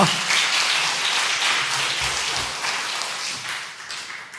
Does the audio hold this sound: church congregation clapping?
yes